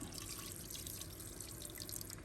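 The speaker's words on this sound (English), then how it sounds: "I think I need to put water in it." Water streams steadily into a cooking pot while making binignit, a soft continuous splashing and trickling heard close by, with no talking.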